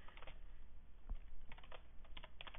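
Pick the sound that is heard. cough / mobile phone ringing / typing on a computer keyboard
typing on a computer keyboard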